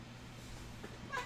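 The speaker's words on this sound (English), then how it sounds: "This is Ariel. She's the chatty cat." Ariel, a chatty pet cat, lets out one short meow near the end, over a steady low indoor hum.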